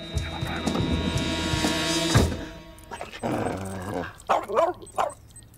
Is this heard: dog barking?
yes